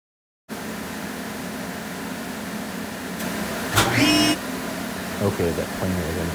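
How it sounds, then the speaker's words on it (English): A garage woodworking shop's dust collection system roars steadily while a wood planer joins in partway through with a louder, harsher whine and brief clunks, all close and continuous. "Okay, that planer is unbearable to listen to"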